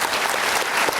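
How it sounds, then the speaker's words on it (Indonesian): Studio audience applause for a guest on a motivational television talk show; a brief, dense burst of clapping, close and loud, lasting about a second. "Kita kasih tepuk tangan untuk Miss Mary."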